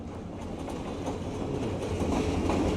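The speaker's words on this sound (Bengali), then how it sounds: "দেখতেছে ট্রেনটা কাছাকাছি চলে আসছে" A train rolls along the tracks toward a level crossing, its rhythmic clickety-clack of wheels on rails growing steadily louder as it draws near, with no voices.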